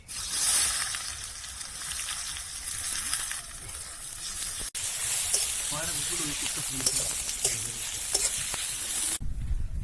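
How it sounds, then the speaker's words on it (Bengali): Chopped onions fry in hot oil with cardamom, cinnamon, whole spices and cumin while being stirred, a steady loud sizzle and hiss with scraping stir strokes, ending in a brief quieter moment. "ওদিকে পেঁয়াজ ভাজা হচ্ছে"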